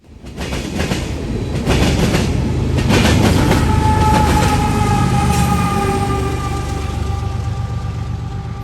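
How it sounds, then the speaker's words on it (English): A Union Pacific AC45CCTE locomotive shoves hard at the rear of a freight train climbing a hill at night, its loud steady engine roar mixed with rail noise and clattering wheels, rising slightly and holding throughout. "Bringing up the rear of .179 is another Union Pacific AC-45 CCTE, shoving as hard as he can to get this train up the hill"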